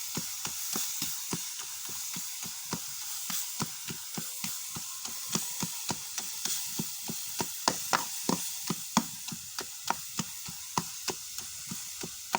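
Food stirred in a frying pan, with a brisk, regular series of utensil taps and scrapes over a soft, continuous hissing sizzle, close and fairly quiet.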